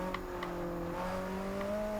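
Ferrari 458 Speciale engine and exhaust in Forza Horizon 2, a steady high-revving drone with a slight pitch rise, faint and continuous, with no voices.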